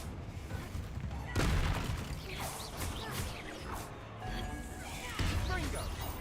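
Confringo spell blasts in Hogwarts Legacy burst out in forceful booming hits, one early and another near the end, amid busy combat effects and a voice in the background.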